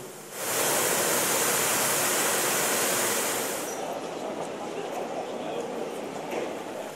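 Steady broadband rush of falling and splashing water from a Munich city fountain, loud and continuous, rising abruptly at the start and easing slightly partway through, heard alone without talk.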